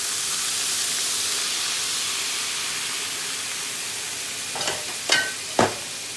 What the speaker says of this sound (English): We're going to deglaze it with a little more wine.